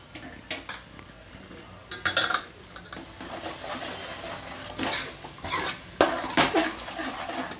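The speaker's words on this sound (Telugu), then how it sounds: "కలుపుకుంటూ వేయించుకుందాము పొడులన్నీ" Chili powder, coriander powder and turmeric are stirred and fried with ginger-garlic paste in a pan for a ridge gourd and tomato curry, with intermittent metal spoon scrapes and clinks against the pan and no talk.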